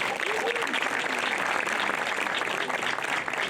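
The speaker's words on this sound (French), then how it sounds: "Je vous demande encore d'applaudir très fort cette équipe." A crowd at the Saint-Érige village festival in Auron, 2017, applauds an organizing team: a steady wash of clapping at moderate volume, with faint voices and calls mixed in.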